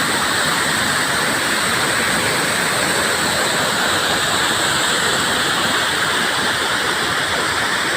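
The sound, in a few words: waterfall of spring water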